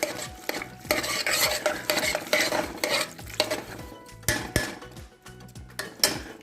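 Utensil stirring a pepper mixture in a pot, repeated close scraping and clattering strokes over a light sizzle, uneven in rhythm, with no speech.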